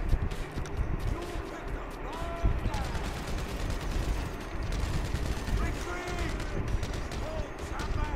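Revolver gunshots in GTA Online crack out in scattered sharp bursts over busy game noise, with people talking excitedly throughout.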